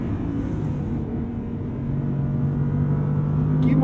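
An Audi R8 Performance RWD Coupe engine drones steadily from inside the cabin while driving, a low tonal rumble that holds even and rises slightly in pitch and loudness toward the end.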